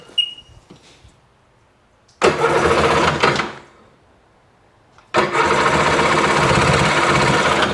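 A Seadoo RFI 787 jet ski engine with a fuel delivery issue cranks and catches in two loud revving bursts, each running a second or more before cutting out, separated by near silence with small clicks.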